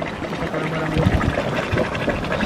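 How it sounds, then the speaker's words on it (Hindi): Bubbling, boiling hot spring water at an outdoor mountain site, a steady churning gurgle with irregular splashy bursts, close and fairly loud. "आवाज़ आ रही है उसकी बॉइलिंग वाटर"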